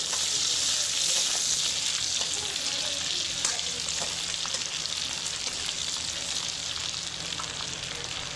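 Two bay leaves and cumin seeds sizzle in hot oil in a pan, giving a loud, continuous crackling hiss with no talk.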